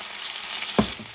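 Petite sirloin steak sears in a hot pan with a steady, close sizzle, broken once by a brief louder scrape or stir partway through; no voices.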